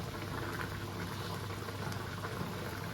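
Chicken curry with potatoes bubbling steadily in a pot, a dense, continuous simmering hiss and patter that stays even and close throughout, with no talking.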